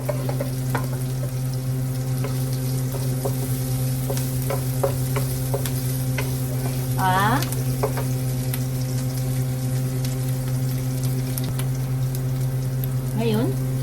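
Chicken tinola ingredients sauté in a pan with a steady sizzle and occasional stirring scrapes, while a constant low hum runs underneath.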